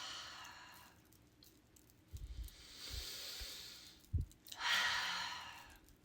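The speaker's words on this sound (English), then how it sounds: "take a deep breath, breathe in, hold at the top," Slow, deep breaths during a guided breathing exercise: a soft airy exhale at the start, then another fuller rush of breath a few seconds later, close to the microphone, with faint low thumps between and no talking.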